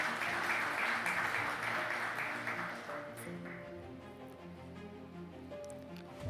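Applause from attendees at an annual banking and finance meeting, a broad clapping wash that starts fuller and gradually thins and fades, with a low musical hum underneath.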